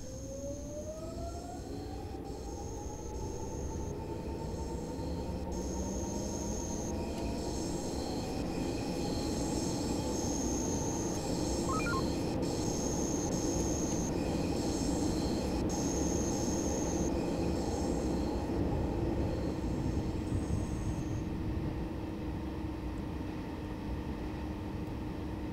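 A Berlin S-Bahn train in Train Simulator 2020 runs steadily with a constant rolling rumble, rising motor whine and faint repeated high-pitched squeals from the wheels, heard alone without talking.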